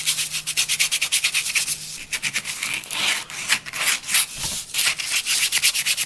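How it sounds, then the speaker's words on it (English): Sandpaper rubs back and forth over the rough edges of cut wooden address letters in quick, steady strokes, close and fairly loud, with no talking. "so I'm just going to go over with some sandpaper and ease them over"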